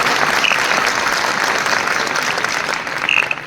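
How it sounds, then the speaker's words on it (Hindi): Steady applause from an audience at a valedictory programme, honouring the host who compered the event, dense clapping holding at an even level throughout, with no voices over it. "विधि के लिए तालियां होनी चाहिए, बहुत ही शानदार।"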